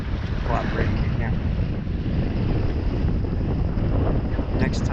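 Strong wind buffets the microphone on Lake Jocassee during foil windsurfing, a constant loud rushing roar with gusty swells, faint splashing of water and brief squeaky sounds near the end.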